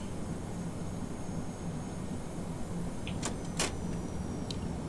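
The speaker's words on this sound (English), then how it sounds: "Take one more level of flaps." A Boeing 717 in a flight simulator extends its flaps during approach, a faint motor whir and a few brief clicks over steady cockpit engine drone, with no talk.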